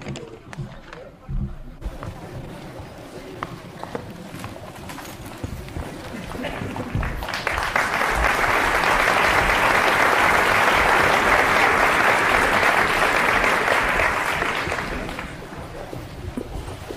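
A talk audience in New York City breaks into sustained applause that swells to a loud, dense wash of clapping and then tapers off, after some rustling and shuffling.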